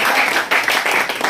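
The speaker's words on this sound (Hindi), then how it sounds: "तो क्या ताली नहीं मिलना चाहिए?" A seminar audience bursts into dense, sustained applause, many hands clapping loudly and continuously close around, with no speech over it.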